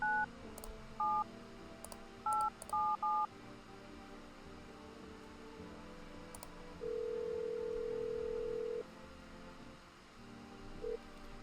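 A telephone in the video game No, I'm Not a Human dials out with a quick series of crisp touch-tone beeps, followed by a long steady ringback tone and one short final blip, with no voices.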